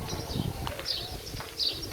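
Pigeons coo softly in a pigeon room on a farm near Badr, Sadat City, with several faint, brief calls rising over a low, breezy background.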